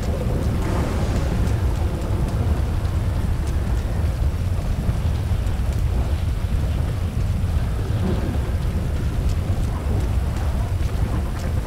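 Steady heavy rain with deep rolling thunder rumbling throughout, a continuous dense wash of storm noise with no talking, from the video game GTA V.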